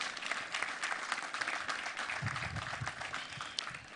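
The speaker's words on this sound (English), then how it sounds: "I think he deserves a round of applause." Sustained applause from a crowd, a dense steady patter of many hands clapping throughout, moderately loud with no pauses.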